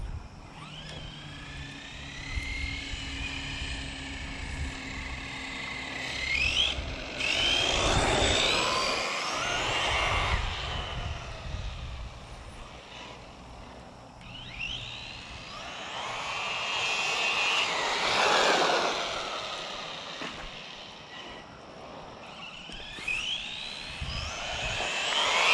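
An Arrma Senton 3S RC truck with a Spektrum 3200KV brushless motor whines as it drives, swelling into two long, loud, high-pitched surges as it speeds past and then fading, with no talk.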